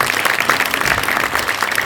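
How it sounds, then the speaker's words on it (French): An audience gives a short burst of dense, close applause for a conservatory student at a festival event. "vous pouvez l'applaudir"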